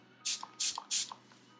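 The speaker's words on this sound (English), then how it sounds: "So I'm gonna spray that." MAC Fix+ setting spray from a mini bottle, three quick close hissing spritzes evenly spaced, each followed by a faint pump click.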